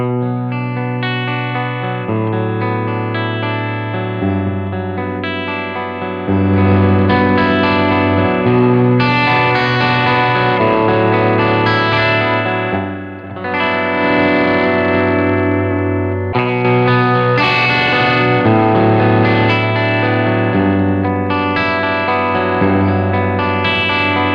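Electric guitar played through a PRS MT15 amp, switching channels between clean and overdriven tones across a long passage of chords and riffs, loud and continuous with no talking.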